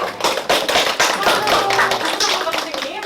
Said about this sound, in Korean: 박수 선생님 박수로 맞이해보겠습니다